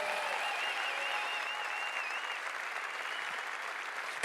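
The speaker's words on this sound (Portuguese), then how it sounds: "Uma salva de palmas para eles." A church conference audience applauds volunteers in a steady, sustained wash of clapping from a large crowd, even in level and heard alone for several seconds.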